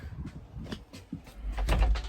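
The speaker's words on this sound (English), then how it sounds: "I'm going to shut this door." A door is pulled shut indoors, giving a few soft knocks and rattles before a dull thud, followed by low rumbling handling noise close to the mic.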